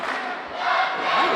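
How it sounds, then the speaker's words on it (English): A wrestling crowd at an NWL Kansas City show roars and cheers, a loud, swelling mass of voices with shouts rising toward the end. "Man, listen to this crowd."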